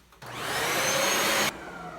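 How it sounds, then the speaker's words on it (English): A Bissell 2X Pet Pro Heat carpet cleaner switches on and vacuums carpet, its loud, steady whine holding for over a second before cutting off abruptly. "So I'm gonna put the vacuum back on and"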